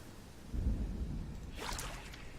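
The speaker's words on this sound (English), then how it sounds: "Did you hear that thunder?" Thunder in the game Prehistoric Kingdom, rain falling: a low rumble rolls in, then a brighter crackling burst follows, moderately loud over a steady rain-like hiss.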